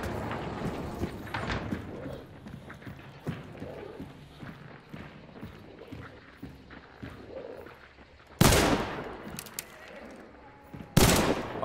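Gunfire in the video game Hunt: Showdown, with rapid bursts and clattering shots throughout, then two loud, close booming shots near the end, all over game ambience.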